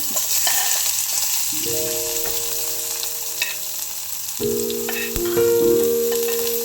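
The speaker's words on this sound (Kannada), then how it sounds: "ಎಣ್ಣೆ ಬಿಸಿ ಆಗಿಂದ ಜೀರಿಗೆ ಸಾಸಿವೆ ಹಾಕ್ಕೊಳ್ಳೋದು" Cumin, mustard seeds and onion frying in hot oil, a steady close sizzle and crackle with light stirring, under soft background music.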